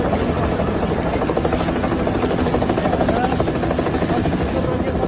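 An army helicopter deployed for a disaster rescue in Nepal drones loudly and steadily throughout, a dense rotor and engine roar with no break in its sound.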